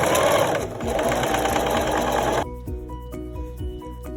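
A sewing machine runs loud and close, stitching a fabric face mask in a fast steady whir, then shifts to slower distinct rhythmic needle thumps for the last couple of seconds.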